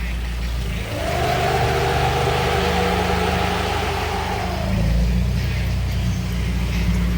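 A rebuilt Nissan 240SX drift car engine running steadily at a loud, close idle with a brief rise in revs, its low drone continuous throughout.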